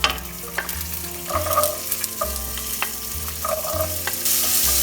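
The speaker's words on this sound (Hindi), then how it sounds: "अभी मैं ग्रीन बीन्स फ्राई कर लूँगी।" Green beans fry and get stirred in a hot pan with dried red chili, panch phoron and hing over medium-high flame, giving steady close sizzling with repeated scraping stirs, no talking.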